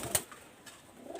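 Pigeon cooing, a KTM-breed pigeon with golden throat, a single brief soft coo near the start followed by faint low background murmur.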